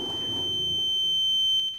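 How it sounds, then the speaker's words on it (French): A fire safety system alarm in a training classroom beeps with a steady, piercing electronic tone that holds continuously, with a low murmur of room noise underneath. "les élèves apprennent les protocoles à suivre en cas d'alerte au système sécurité incendie"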